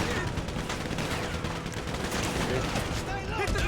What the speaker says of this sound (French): C'est une petite grenade, on va essayer de voir.